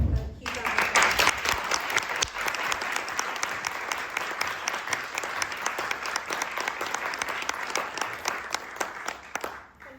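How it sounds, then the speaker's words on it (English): Sustained applause from a conference audience, dense steady clapping that holds for several seconds, then fades out at the end. "can you just give a huge round of applause?"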